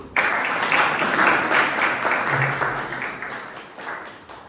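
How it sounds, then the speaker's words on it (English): A burst of applause from members at a Toastmasters club meeting, honoring two nominees: a room full of clapping that starts abruptly and gradually tapers off over a few seconds. "A big round of applause for them."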